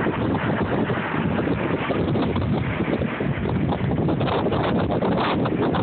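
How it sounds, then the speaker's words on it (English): Strong hurricane wind during Hurricane Earl roars continuously and loudly, buffeting the microphone with a dense, unbroken rush and no pauses or voices. "The wind pushed them off, Peter."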